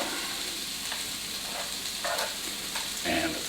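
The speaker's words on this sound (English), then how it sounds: "Now I'll put in the celery." Celery dropped into a hot pan for mild curried vegan sausages sizzles and fries steadily, with a few brief stirring clatters near the end and no talking.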